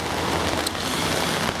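Steady rain pours down outdoors over a garden plot, a dense even hiss of drops on surfaces that holds constant throughout, with no talk.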